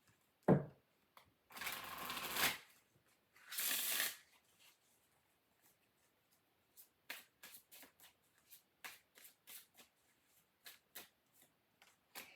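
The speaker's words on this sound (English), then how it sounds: "Let's pull a couple of cards from the Vampire Tarot deck real fast." Vampire Tarot cards shuffled in a few papery riffling bursts, then a string of soft, separate flicks and slaps as cards are pulled and laid down, quiet and close.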